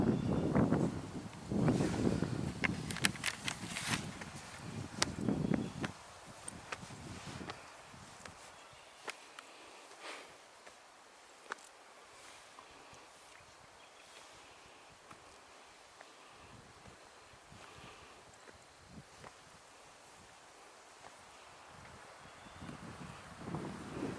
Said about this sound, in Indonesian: Suara angin ketika di atas gunung